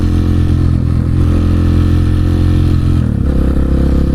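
Husqvarna 701 supermoto single-cylinder engine running loud and close, holding a steady drone for about three seconds before a sharp shift in pitch as it changes gear or revs, with no talk over it.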